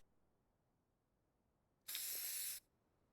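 A spray can hiss from CS:GO graffiti, one short burst under a second long, sudden and crisp against near silence.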